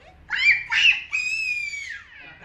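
A young child imitates a crow's caw in three drawn-out, nasal vocal calls, the last one longest and sliding downward, close to the microphone with little else around.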